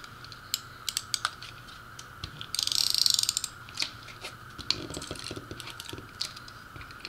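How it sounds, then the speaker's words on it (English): A tape runner is handled and applied to paper gift tags: scattered light clicks and plastic ticks, plus a brief rasping buzz of adhesive tape rolling out, all close and fairly quiet, with no talking. "So we'll go ahead and grab our tape runner."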